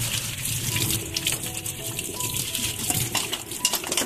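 Tap water pours steadily over a garland of lemons and mango leaves being rinsed, a loud, close, continuous gushing splash with faint clinks throughout.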